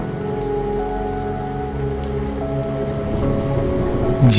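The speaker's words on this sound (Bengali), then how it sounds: "ঝিমঝিমিয়ে বৃষ্টি হচ্ছে" Light drizzle patters steadily during a night bus ride in an animated Bengali village horror story, a soft continuous hiss over the low droning hum of the bus engine.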